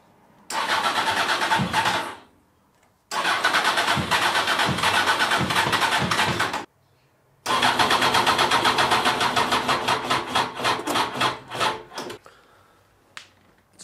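A Honda CBR 900 RR sport motorcycle engine catches and revs loudly in three bursts separated by brief pauses, the last run settling into a rough, pulsing idle before cutting out.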